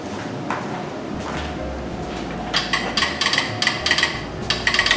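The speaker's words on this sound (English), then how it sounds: "it was all done by telegraph using Morse code." Telegraph key clicking out Morse code in the Sono switch tower museum, a rapid irregular string of sharp metallic clicks in the second half, over a low steady hum.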